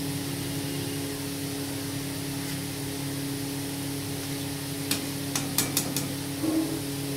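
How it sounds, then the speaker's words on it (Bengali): Luchi, small puffed flatbreads, deep-fry in hot oil with a steady, close hiss of sizzling, joined near the end by a few sharp metallic taps from a utensil. "তো এইভাবে আমি লুচিগুলো সব ভেজে নেব।"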